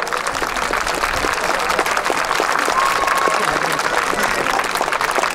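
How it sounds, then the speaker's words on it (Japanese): Applause from an outdoor audience at a spring festival in a park by Aomori Station, dense steady clapping with some crowd voices mixed in, continuing evenly throughout. "盛大な拍手でお迎えください。"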